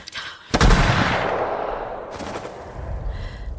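In Avowed, a single loud gunshot cracks close by, its blast decaying into a long rumbling tail, followed by a second fainter bang, with no voices.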